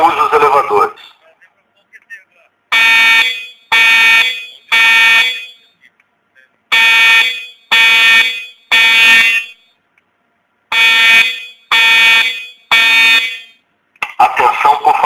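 A building fire alarm sounds in bursts during a school evacuation drill, each roughly one-second electronic horn blast repeated in groups of three with silent gaps, loud and harsh, a recorded announcement voice speaking at the start and end.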